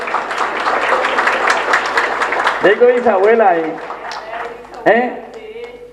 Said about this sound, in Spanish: fuerte aplauso para una bisabuela.